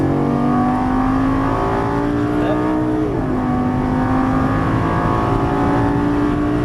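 A Lamborghini Gallardo LP550 on a racing track, its engine droning loud and close with a steady rising pitch, a brief shift dip midway, then climbing again under continuous acceleration.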